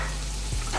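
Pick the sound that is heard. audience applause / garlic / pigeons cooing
garlic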